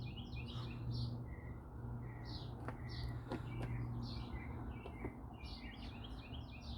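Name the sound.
birds chirping outdoors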